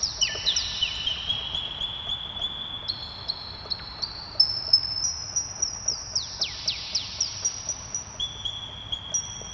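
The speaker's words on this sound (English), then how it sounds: "at about 100, it starts to sound like birds" Synthesized whistling chirps, bird-like, slide and hold at high pitches over a soft background of regular ticking pulses.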